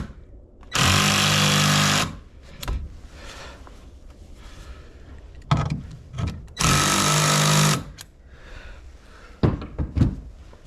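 A power tool tightening bolts on a heavy-duty truck bed rack, two loud sustained buzzing bursts of about a second each, separated by clanks and handling knocks, close and without talk.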